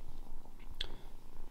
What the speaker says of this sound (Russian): Смотрите, как она мурчит.